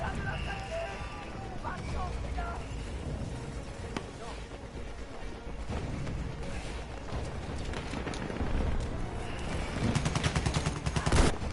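Autoloading rifle fire in a team-based war video game, with a dense, continuous clatter of shots and distant booms layered under steady game noise and talk, growing louder toward the end.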